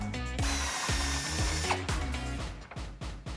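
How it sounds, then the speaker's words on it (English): A ratchet fitted with a 15mm socket and extension spins out bolts from a 2007-2013 Silverado 1500 front bumper. Loud, close, rapid bursts of whirring mechanical clicking come in short repeated pulses. "We're gonna use a 15mm socket and you may want a small extension as well as a ratchet to get this out."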